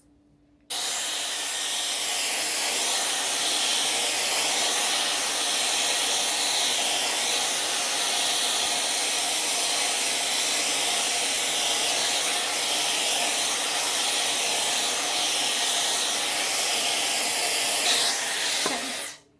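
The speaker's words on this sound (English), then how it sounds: "And then I will blow dry it forwards, get a lot of lift in there like this." Dyson Airwrap fitted with a spiky brush, blow-drying hair forwards, a loud, steady, close airflow roar that switches on near the start and runs unbroken until it cuts off near the end.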